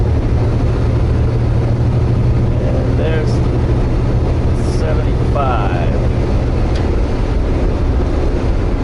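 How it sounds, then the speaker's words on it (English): A leased semi truck's engine runs under acceleration at full power, giving a steady, loud drone that fills the cab while someone talks over it. "The engine seems to be putting out decent power."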